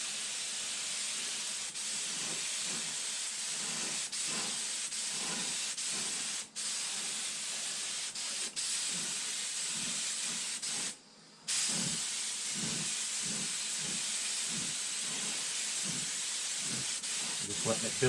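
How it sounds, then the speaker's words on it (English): Paint sprays onto a round part of a full-scale Star Trek TOS Nomad prop reproduction in close, steady hissing bursts, with a few short pauses between passes. "So I'm going to go ahead and start spraying them down"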